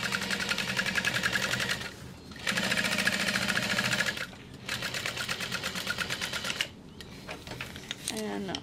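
Sewing machine top stitching a seam with stabilizer: fast, even mechanical whirring in bursts of a couple of seconds each, with short pauses between runs, close and clear.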